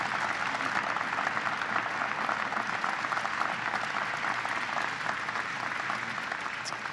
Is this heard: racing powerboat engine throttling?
no